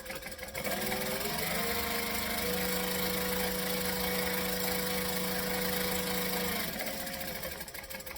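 A sewing machine stitches fabric in one continuous motorized run. It starts quickly, holds a steady close whirring hum for several seconds, then stops, with no speech.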